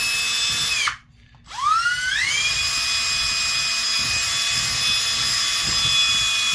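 A power drill spins a bit through the plastic parts of an Antikythera mechanism kit assembly, reaming them out; a steady high whine drops away briefly, then spins back up and runs continuously with a faint rattle underneath.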